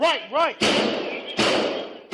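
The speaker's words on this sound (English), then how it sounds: "police follow the sound of gunfire" Gunfire inside a Nashville school building during an attack: three loud, sharp reports about a second apart, each ringing off into an echoing indoor decay, following a brief shouted voice at the start.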